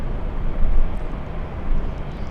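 Airliner on a flight to Seattle out of Los Angeles International Airport, a steady broadband roar of engine noise with slight swells in loudness, fairly close and without talk.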